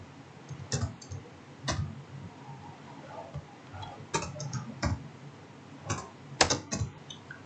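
Sparse, irregular keystrokes on a computer keyboard while typing into a WordPad table, with single clicks and short bursts separated by quiet pauses over steady low background hiss.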